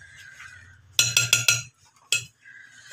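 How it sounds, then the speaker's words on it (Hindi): A metal spoon clinks against a bowl while mixing chana chaat with chopped green chilies and tomatoes: a quick burst of four sharp clinks, a pause, then one more, close and clear over quiet background. "इन सब चीज़ों को मिक्स कर लेंगे।"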